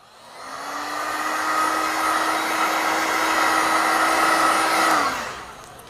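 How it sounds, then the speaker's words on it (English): A heat gun blows steadily over freshly screen-printed T-shirt ink, a loud, constant whooshing hum with a faint whine that rises in, holds for about four seconds, then winds down, close to the mic. "Before that, we'll put a heat gun."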